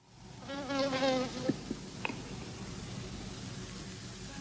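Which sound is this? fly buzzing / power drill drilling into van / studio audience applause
fly buzzing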